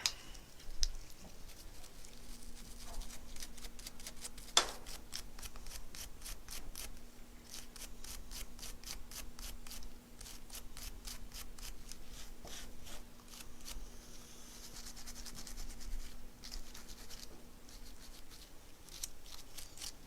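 A small toothbrush scrubs carbon off gun parts during cleaning, producing rapid, repetitive dry bristle strokes that rasp steadily and close up. A faint sustained hum runs beneath, and no one speaks.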